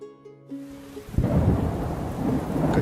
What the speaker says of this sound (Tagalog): Kanina pa ang ulan na yan.